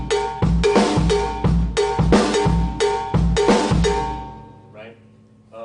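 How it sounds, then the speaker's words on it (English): Drum kit playing a syncopated go-go groove with a prominent cowbell-like hit, repeated strokes in a steady rhythm, loud and close, fading out into brief quiet. "It starts to sound like a go-go groove."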